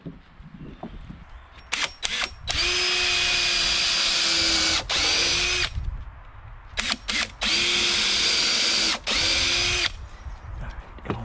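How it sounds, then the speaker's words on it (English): A power drill pre-drilling timber rafters for a post and beam barn: two long, loud whining runs at steady speed, with short starts and stops around them, close by and with no talk. "and we'll pre-drill them"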